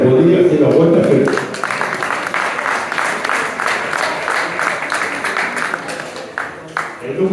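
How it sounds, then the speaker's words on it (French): An audience at a motorcycle club's 40th anniversary celebration breaks into loud, dense applause that thins into scattered claps over several seconds, with voices talking over it at the start and again near the end. "Vous pouvez l'applaudir, c'est le roi de la fête."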